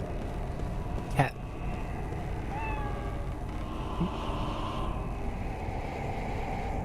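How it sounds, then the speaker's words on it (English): A cat in the video game Lost Odyssey gives a brief, high meow over a steady low game hum and background sound. "I give the cat pet."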